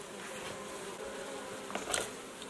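Honey bees buzzing steadily around an open hive during installation, a dense continuous hum with a few closer passes toward the end, no voices.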